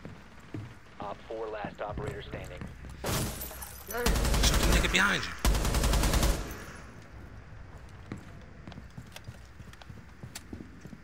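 Rapid bursts of automatic gunfire in Rainbow Six Siege rattle loudly in the middle of the stretch, with people talking over the game before and after the shooting.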